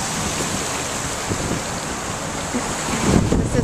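Surf breaks and washes on the shore at Lovers Beach while steady wind buffets the microphone, a continuous close roar with a slight swell near the end.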